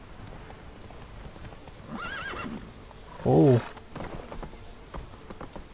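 Horse hooves clip-clop in The Witcher 3 as the rider travels across rooftops, a short burst of hoofbeats and a whinny rising over ambient game noise, with someone briefly speaking.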